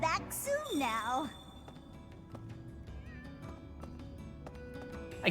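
A cat in the video game Fire Emblem: Three Houses gives a wavering meow near the start, followed by quieter game sounds and a low background drone.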